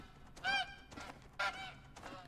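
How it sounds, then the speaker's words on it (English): Tundra bean geese honk in a hunting video game set on the Revontuli Coast, with four quiet, distant nasal calls in two pairs over faint ambience. "It's a tundra bean goose, those ones down there."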